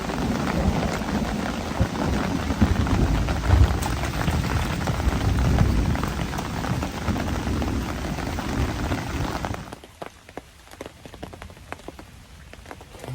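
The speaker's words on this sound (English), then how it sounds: "We're in a thunderstorm in a Temu tree hammock tent." A thunderstorm pours rain onto a tree hammock tent. A dense, loud drumming of drops mixes with deep thunder rumbles for about ten seconds, then drops to sparser, closer individual drop taps.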